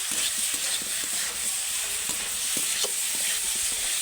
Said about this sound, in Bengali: সবজিটা সবজিটা ভালো করে নেড়ে কেড়ে নেবো